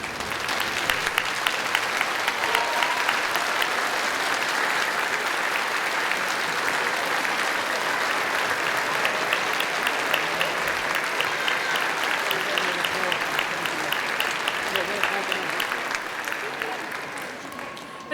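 Graduates at a degree ceremony in Scotland applaud their families: long, steady clapping from a large hall audience that holds level for many seconds, then begins to fade at the end.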